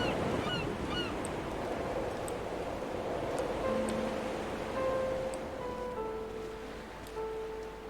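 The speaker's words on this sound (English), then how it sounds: "Fucking seagulls over there." Seagulls call in Dear Esther with several drawn-out, wailing cries, some near and some farther off, over steady wind and surf noise.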